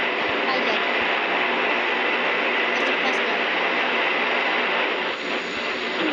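Steady, loud airplane engine drone in a flight video game, cruising on autopilot, a continuous broadband roar with no breaks and only faint clicks on top.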